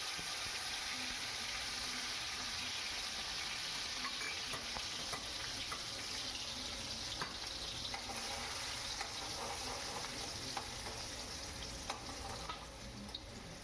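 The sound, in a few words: chana dal frying in oil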